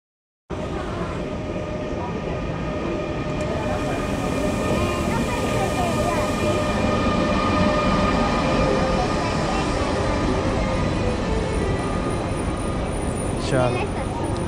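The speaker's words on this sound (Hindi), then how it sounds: "तो यहाँ दूर से ट्रेन दिख रही है, बस थोड़ी देर में प्लेटफॉर्म पे आने वाली है।" A train arriving at a railway station platform between Budapest and Vienna, a loud, steady rolling rumble with a continuous hiss, building slightly as it nears and carrying on throughout with no pause.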